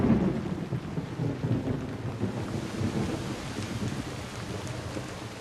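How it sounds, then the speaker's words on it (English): Steady heavy summer rain pours down with a constant hiss and patter, low rumbling beneath it, no voices. "Then these summer rains."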